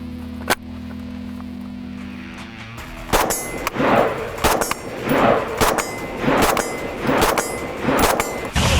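A Steyr AUG rifle fires a new lot of ammunition as a sharp metallic crack rings out, followed by a string of about a dozen loud, evenly spaced shots over a low background hum.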